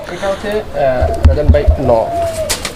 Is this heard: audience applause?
no